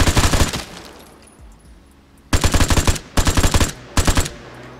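A74 KSU assault rifle fire in the game Vigor: an opening burst, then three loud, close bursts of rapid automatic shots separated by short pauses.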